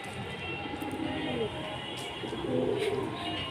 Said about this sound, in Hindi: सारे कबूतर निकाल के भाई ने उड़ा दिए